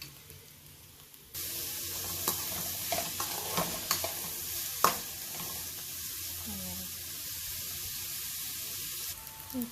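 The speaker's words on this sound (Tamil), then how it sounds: "இதுக்கப்புறம் வெங்காயம் போட்டுக்கலாம்." Onions dropped into hot oil with masala spices, sizzling loudly and continuously after a sudden start, with scattered stirring scrapes and clinks over the steady frying hiss.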